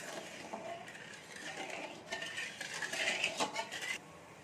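A spoon clinks and scrapes against a bowl while sugar syrup with yellow food colouring is stirred for a Bengali lobongo lotika sweet, with light, irregular taps that grow busier and brighter toward the end.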